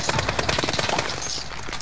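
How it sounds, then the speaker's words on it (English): Enemy gunfire in Warzone: rapid automatic bursts, loud and close, rattling continuously with dense repeated cracks. "y'all got ops shooting at us now"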